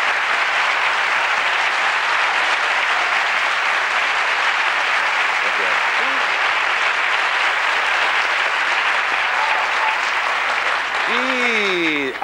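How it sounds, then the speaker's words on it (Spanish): Studio audience at a 1992 Spanish TV copla show applauds steadily and loudly for the whole stretch, a dense, even wash of clapping with no talk over it. "Ahora a encadenar ese aplauso con otro"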